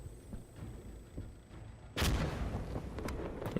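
A frag grenade blast in the shooter game Insurgency Sandstorm, one sudden loud boom midway followed by a rumbling tail and scattered gunfire, after a quieter stretch of battle noise.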